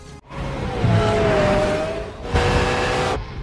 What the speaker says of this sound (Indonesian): Cepet-cepet lah orang itu naik mobil Ferrari ya kan